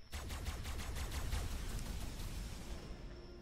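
Rapid gunfire from a weapon in ARK: Survival Evolved, a fast burst of sharp shots in quick succession that fades toward the end, heard alone with no talking.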